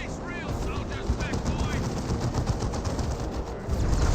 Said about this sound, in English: Grey Knight Dreadnought gets a nice hit there with the plasma cannon.